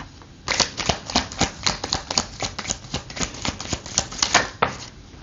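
Tarot cards are shuffled and laid out in a rapid, dense run of crisp flicks and slaps, steady and close for several seconds with no talking.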